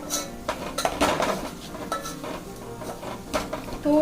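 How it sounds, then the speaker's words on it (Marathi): Masala and onion sautéed in oil in a pan, with repeated metallic scrapes and clinks of a spoon against the pan over a light sizzle, close and fairly busy. "मसाला थोडा परतवलाय का तेलामध्ये ऑलमोस्ट कांदा शिजलाय"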